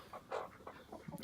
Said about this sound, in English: Some chickens up here.